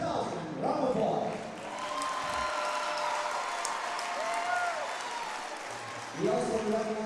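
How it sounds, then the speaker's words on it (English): Applause from a high school volleyball crowd recognizing a player's milestone, a steady clapping wash lasting several seconds, with a voice over a PA system at the start and end. "Round of applause"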